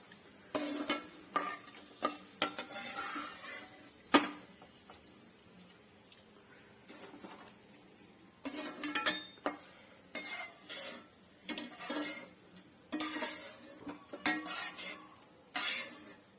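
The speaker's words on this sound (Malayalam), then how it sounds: "പിന്നെ എല്ലാം കോരിയെടുക്കാം." Fried bitter gourd pieces are scooped out of a pan in a Kerala kitchen, with irregular clinks and scrapes of a metal spoon against the pan, spaced by quiet pauses and clustered in short bursts.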